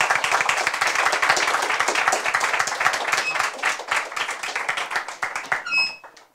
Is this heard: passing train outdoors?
no